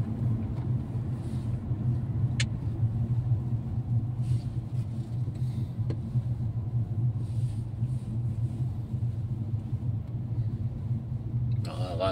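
Steady low road rumble inside a moving car in evening traffic, with faint clicks and occasional distant sounds over a continuous drone; no clear talk.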